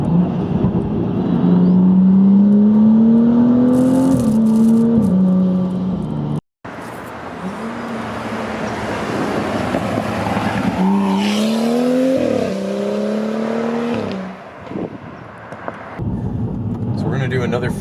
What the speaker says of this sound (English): Slow down, we'll do another little third gear rip.